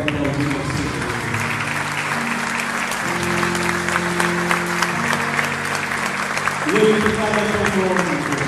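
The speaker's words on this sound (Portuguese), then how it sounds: "Você pode aplaudir o Senhor." A church congregation clapping in worship, steady dense applause under sustained music, with voices heard over the clapping throughout.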